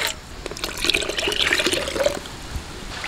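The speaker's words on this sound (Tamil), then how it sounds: "இப்போ நான் வந்து ஒன்று கொஞ்சம் தண்ணி சேர்த்துக்கிறேன்." Water poured into a simmering drumstick-leaf kuzhambu, a soft splashing trickle running for a few seconds, fairly close and alone without talk.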